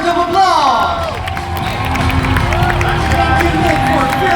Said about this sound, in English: please give Nick a big round of applause